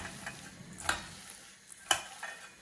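Four dried and two green chillies fry quietly in a pan, a faint low sizzle with two sharp clinks of a utensil against the pan about a second apart.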